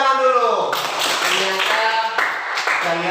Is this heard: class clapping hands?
yes